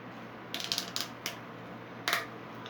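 PVC pipe being pushed into a PVC T connector: a handful of short, sharp plastic clicks and snaps close by over a faint steady hum, ending with one louder snap.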